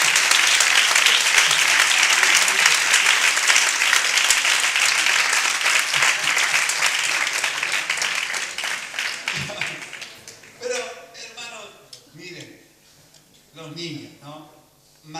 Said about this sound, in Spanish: Un aplauso al Señor por la fe de los niños.